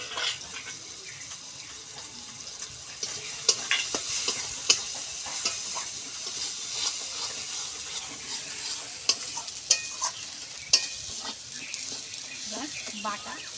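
Bay leaf, turmeric and spices fry in a pan with a continuous high sizzle, a few light stirring clinks and knocks, close and steady, with a voice faintly heard at times.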